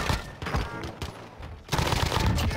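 Incoming gunfire in Call of Duty: Warzone crackles as a dense, fast volley that thins briefly in the middle and then returns loud and heavy.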